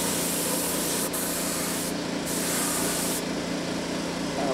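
A spray can or spray gun laying one coat of paint over thin, sanded-through spots on a steel I-beam outdoors in the sun, a steady close hiss running unbroken throughout with no talk.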